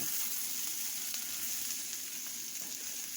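Potatoes and smoked sausage sizzle steadily in a skillet, a close, even hiss of frying with faint stirring clicks scattered through it and no voices.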